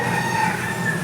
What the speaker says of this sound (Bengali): ওই দেখো মোরগটা কীভাবে ডাকছে,